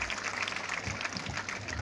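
Audience clapping at a school hostel event, a dense, continuous patter of many hands at moderate distance that stops abruptly at the end.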